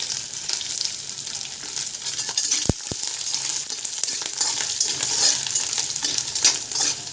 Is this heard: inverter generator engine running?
no